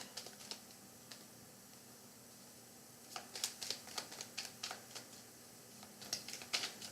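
Tarot cards being shuffled, quiet crisp riffling and tapping in irregular bursts, sparse at first and then in a denser flurry of flicks near the end.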